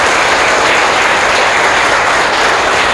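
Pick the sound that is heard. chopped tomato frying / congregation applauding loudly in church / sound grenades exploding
congregation applauding loudly in church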